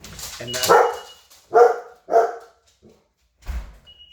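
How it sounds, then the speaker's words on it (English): A dog barks nearby in a few loud, separate woofs spaced across a couple of seconds, with brief quiet gaps and a short spoken word. "That was the alarm going off, the dog barking."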